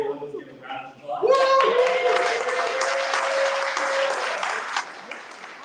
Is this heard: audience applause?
yes